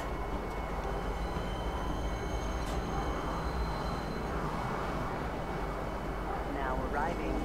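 Train pulling into Tisa Spaceport in the Star Citizen game, a steady loud rumble of rolling rail cars with a faint brake squeal near the end, under a station announcement voice.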